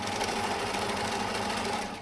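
A domestic sewing machine runs steadily as it stitches striped fabric for a homemade face mask, a continuous close whirring hum with a fast, even needle rhythm, no voices.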